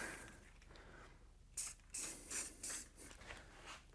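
A few short hissing bursts from a spray paint can on a 2023 Nissan Murano being rebuilt, close by, each puff lasting a fraction of a second after a quiet start.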